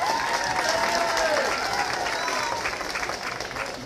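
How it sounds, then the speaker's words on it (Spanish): Crowd applause and scattered cheers for Sofi at a neighbourhood fiesta in Pasaquina, El Salvador, loud and continuous, with a voice speaking over the clapping. "Fuerte aplauso para Sofi."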